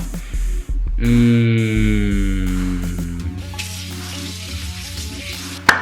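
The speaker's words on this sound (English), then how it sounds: "on the pan right now is our garlic butter that I scraped off of the shrimp. And currently it's melting" Garlic butter scraped from shrimp melts and sizzles in a pan, a loud close crackling sizzle under steady tonal hum, with brief clattering before it and a sharp knock at the end.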